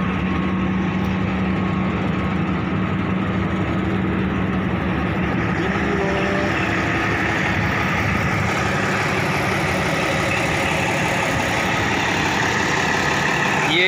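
A Bimal company dozer, model 355, idles steadily with a continuous low engine rumble throughout, loud and close, with no talk over it.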